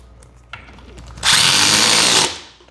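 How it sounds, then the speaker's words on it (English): An impact driver sinking a screw into a drawer cabinet: a few light handling clicks, then one loud, close burst of whirring lasting about a second before it cuts off, with no talking. "I'll just use the impact driver"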